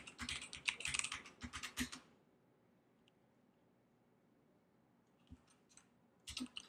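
Quick bursts of clicking keystrokes on a computer keyboard as a short command is typed, then a pause of near silence before a few more keys are tapped close up.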